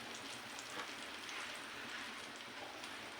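Fish pieces frying in a pan over a low flame for an African-style fish fry, giving a dense, even crackling sizzle like light rain that stays close and constant throughout, with no voices.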